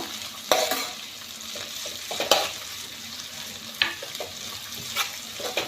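Chopped ginger, green chillies and onion for a poha tadka sizzle in hot oil while a spoon stirs them, a steady close frying hiss punctuated by several sharp scrapes and clinks against the pan.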